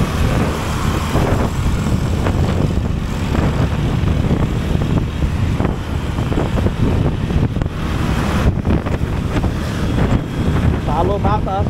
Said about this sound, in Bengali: অনেক বাতাস ফ্লাইওভারের উপরে